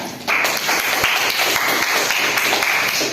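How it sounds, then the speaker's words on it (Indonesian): A class breaks into applause after a classroom role play, a loud burst of dense clapping that starts abruptly and carries on evenly for about three seconds. "Oke, berikan tepuk tangan."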